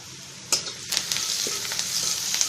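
Onion fries with turmeric in a pan, giving a soft, continuous sizzle with a few sharper clicks and stirring scrapes, fairly quiet and alone.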